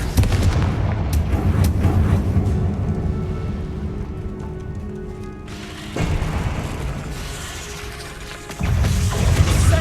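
Confringo blast spells explode repeatedly in the Hogwarts Legacy video game, loud booming bursts over a dense rumbling game soundscape with sharp sudden onsets near the middle and end.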